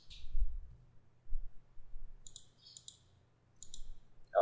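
Computer mouse clicks while designing in Canva, a few faint, crisp, closely spaced clicks in clusters over a quiet low background hum.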